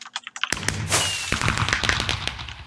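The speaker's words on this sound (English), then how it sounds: "we got a lot of people all doing particles and fireworks" Fireworks burst in the Minecraft video game during a crowded server birthday party, with a dense run of sharp pops and crackles close together that overlap and continue steadily for a couple of seconds.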